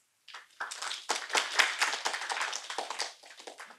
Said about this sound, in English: Let's give a round of applause to this woman